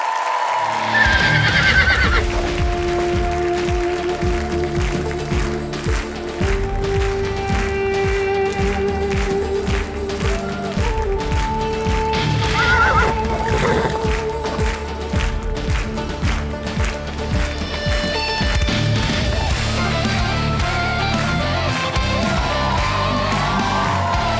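A horse named Qırat on a television show stage neighs loudly, several whinnies over busy clip-clop of hooves and dramatic music, with faint crowd noise in the background.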